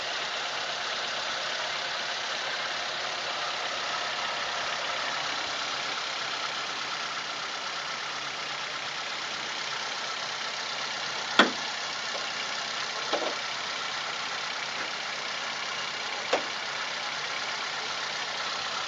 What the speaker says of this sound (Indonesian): Mesin kering, nggak ada yang bocor, suaranya stabil.